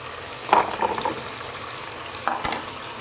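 Cut potatoes dropped into about half a cup of hot oil for a potato and meat curry, giving a steady close sizzling hiss with a couple of brief louder crackling bursts.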